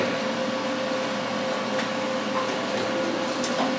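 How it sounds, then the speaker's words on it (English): A MIG welder joins a threaded rod onto a steel welding table using shielding gas, giving a continuous close, even buzzing hiss with faint crackles, no talking over it. "I'm just going to weld that on there just like that."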